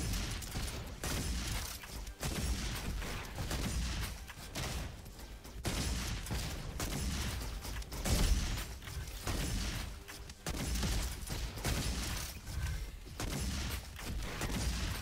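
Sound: turrets firing in RoboQuest video game

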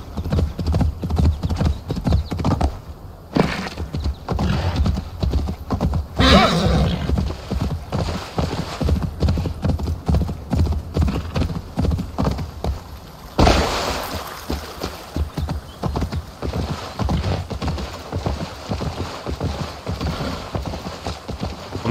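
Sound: horse hooves and neighing in video game

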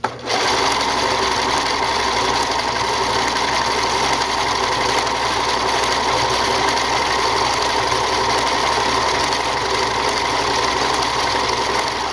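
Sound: sewing machine sewing a decorative stitch

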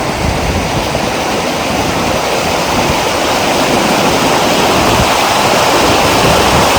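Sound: river flowing

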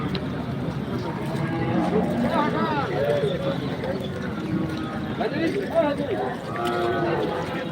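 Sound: cattle at a rainy cattle market

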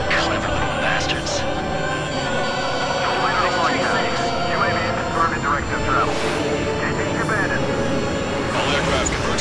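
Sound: aircraft jet engines in the video game Ace Combat 7

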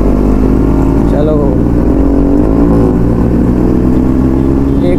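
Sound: loud motorcycle exhaust revving

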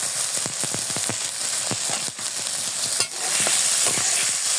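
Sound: stirring green chilies and taki fish mash in a pan

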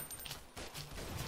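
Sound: machine gun firing in Blockade 3D video game

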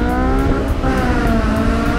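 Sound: S2000 sports car engine revving

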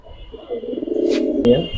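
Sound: Silver Beji pigeons cooing

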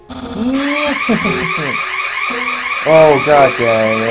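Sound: alarm going off in the room

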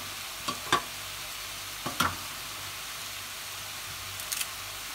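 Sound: garlic and curry leaves sautéing for tomato chutney

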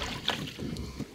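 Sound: rowing a fishing boat with oars

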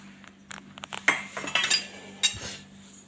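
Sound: ingredients and spoon clinking in a mixer jar

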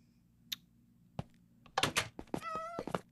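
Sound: cat meowing (video game)

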